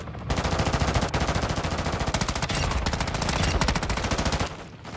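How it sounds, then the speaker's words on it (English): Sustained rapid automatic gunfire in Modern Warfare III, loud and close, rattling continuously for several seconds before cutting off, with game-style punchy bursts. "Oh, gunfire on you, Sean."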